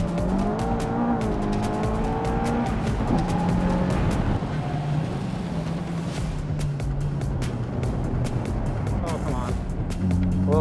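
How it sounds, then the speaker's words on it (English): Mitsubishi Evo time attack car accelerating hard on a race track, engine rising through the gears with rev sweeps and gear changes, loud and continuous, with a little tire noise. "foot to the floor, up through the gears and into turn 3."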